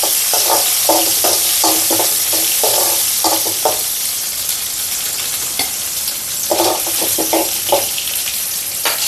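Garlic and green chillies sizzle and crackle steadily in hot oil for a papaya pickle, with bursts of sharper spattering and stirring scrapes rising and falling throughout; no talking.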